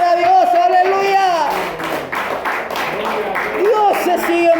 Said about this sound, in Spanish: Aplauda si es para Dios